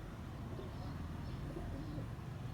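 Pigeons cooing around a rooftop loft, soft low coos repeating faintly through steady background noise, no voices.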